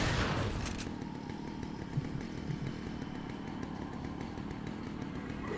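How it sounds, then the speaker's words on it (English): A chainsaw in a Nintendo Wii U video game snarls with a rough, buzzing engine drone that holds steady throughout at moderate volume, with no talking. "it's better to just keep the chainsaw away from you at all times."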